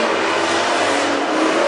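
WISSOTA Super Stock race cars circle Granite City Speedway, their engines producing a loud, sustained roar with a steady drone and no break, close and dominant.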